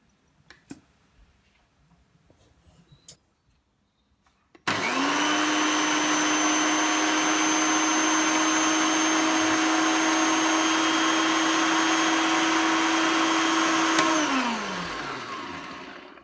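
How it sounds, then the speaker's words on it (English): An electric grinder whirs through curry spices: after some faint handling clicks, a loud steady motor whine holds for about ten seconds, then winds down as it switches off. "Once I've incorporated all my spices together, I'll be grinding it all down just to infuse all the flavours together."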